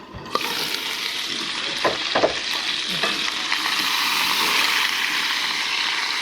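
Loud, steady sizzling of chicken frying in a pan on a camp stove, with occasional scraping and clinking of grilling tongs.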